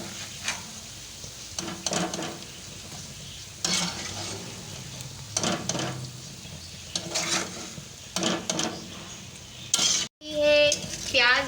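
Lightly fried okra with onion is stirred and scraped out of a pan into another pot, with repeated spoon scrapes, soft sizzling and clinks of metal cookware, ending in a sharp clatter.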